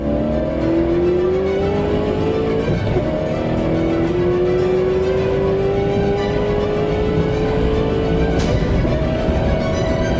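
A car engine revs hard and climbs steadily in pitch as it accelerates, loud and continuous with a brief dip near the middle, no voices over it.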